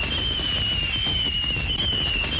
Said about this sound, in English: And then the last sound I have on here is there's some fireworks.